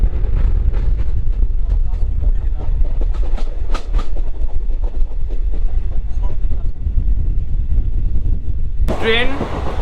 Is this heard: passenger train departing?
yes